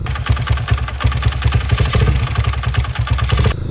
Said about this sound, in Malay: enjin motor aku ni dah berkocak